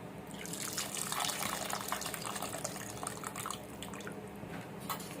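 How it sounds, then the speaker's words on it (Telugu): Tamarind juice pours into an Andhra-style egg and dried prawn curry, a steady watery splashing and trickling that runs continuously throughout at moderate volume with no voices. "చింతపండు రసం వేసుకుంటున్నాము."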